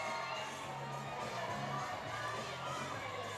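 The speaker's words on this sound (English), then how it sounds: "You can see the crowd sort of wanting to get excited, but not getting excited yet." A crowd at a lead climbing final in Briançon murmurs and calls out in a restrained, building hum, with scattered shouts and cheers at moderate distance, steady throughout.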